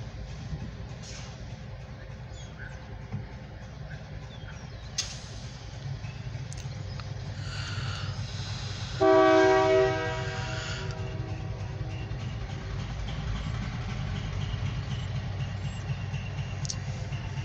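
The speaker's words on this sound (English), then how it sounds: "there's a CSX locomotive working somewhere" A CSX freight locomotive rumbles in the distance beneath steady outdoor background noise, and a short, loud horn blast sounds near the middle.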